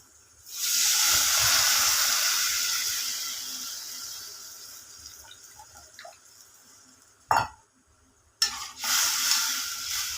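Tamarind water poured into a hot pan for a sardine curry sizzles and hisses loudly, the steady rush slowly fading as it settles, broken by a couple of brief clatters.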